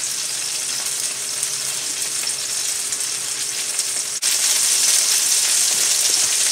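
A low-carb Greek chicken bake cooks in a pot over medium-high heat, giving off a steady, dense sizzle with a broad hiss that stays even throughout and grows slightly louder near the end.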